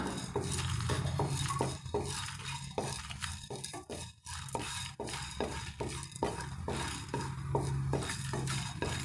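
Dried red chillies and whole spices dry-roasted in a pan for chicken ghee roast, a spoon scraping and clinking against the metal in a quick, irregular stirring rhythm, close and clear with no talking.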